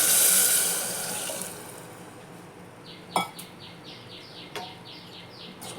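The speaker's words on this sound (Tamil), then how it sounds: "இந்த ஸ்டேஜில் வந்து நம்ம கரைச்சி வச்சுருக்க புளி தண்ணியை ஊற்றிக்கலாம்." Tamarind water pours into a cooking pot of sundakkai kuzhambu in a short, rushing splash lasting about a second and a half, then fades, leaving faint bird chirps in the background.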